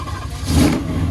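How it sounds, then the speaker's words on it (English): A car engine revs through its exhaust at the Sick Week 2025 drag-and-drive event, a short loud rise to a throaty roar that holds briefly before easing. "Got a nice little exhaust on it."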